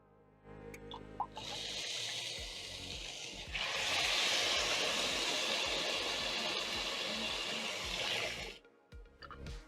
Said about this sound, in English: I'm going to be adding in 4 cups of water